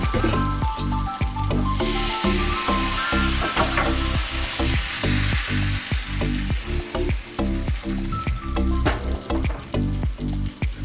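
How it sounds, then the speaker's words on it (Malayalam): Rice flour appam batter poured into a hot appam pan on high flame, sizzling in a loud continuous hiss that stays close and constant throughout, with no voices. "ഇതിലോട്ട് നമുക്ക് മാവ് ഒഴിക്കാം"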